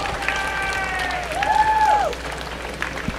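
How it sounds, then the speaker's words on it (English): An outdoor crowd claps and cheers at a Relay for Life charity event held around a track, a short burst of steady applause with a rising whistle-like tone cutting through midway. "please give a round of applause for all of these teachers and our committee that put this event together this year"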